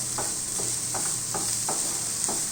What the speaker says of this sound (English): So just slightly saute it for some time